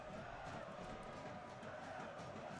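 A large crowd fills Keyworth Stadium for a Saturday-night Detroit City FC soccer match against Chattanooga FC, a steady, dense roar of many voices with a commentator talking over it.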